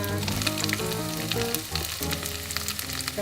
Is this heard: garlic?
yes